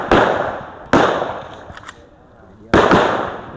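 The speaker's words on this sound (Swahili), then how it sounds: "makamanda wakiendelea na upigaji wa risasi za moto" Live rounds are fired during a military under-fire drill as recruits crawl beneath, with three sharp, loud gunshot cracks spaced irregularly, each followed by a decaying outdoor echo.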